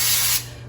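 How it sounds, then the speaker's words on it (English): Cooking spray hisses from a can onto non-stick foil in a pan, one short close burst that stops abruptly. "putting some cooking spray on it"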